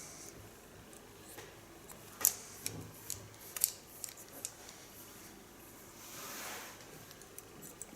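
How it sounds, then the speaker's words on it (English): Scissors slip-cutting short hair for a feminine pixie cut make quiet, crisp snips, a dozen or so soft clicks scattered over a low hiss, close and faint. "Just let my scissors slip"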